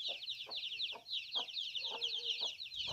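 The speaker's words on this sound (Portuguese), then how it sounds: "A galinha protetora pra caramba." A protective hen clucks near her chicks in a backyard flock, giving a run of soft, evenly spaced clucks at close range under a constant high chirping of the chicks.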